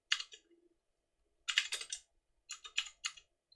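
Bursts of typing on a computer keyboard arrive in a brief flurry, a pause, then two more quick clusters of clicks, close and fairly quiet.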